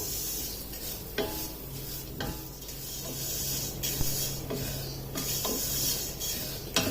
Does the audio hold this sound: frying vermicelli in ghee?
yes